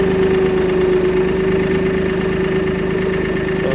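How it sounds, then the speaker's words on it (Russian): The diesel engine of a Mitsubishi MT205 4WD compact tractor runs steadily at low revs as the tractor pulls away, a close, even chugging drone with a constant tonal hum and no talking. "Трактор едет, колесо вращается."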